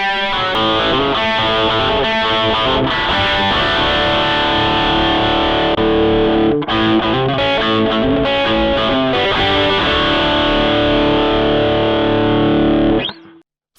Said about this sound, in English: The edge tone introduces a distortion into it, so we have a moderate amount of distortion or crunch